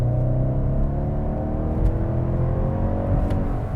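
A 2020 BMW 750Li sedan under hard acceleration, its engine droning loud and steady from inside the cabin with no break and no voices.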